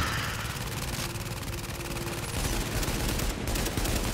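Turret gunfire in the video game Tom Clancy's Heartland rattles in a dense, continuous burst throughout, loud and steady with no talk over it.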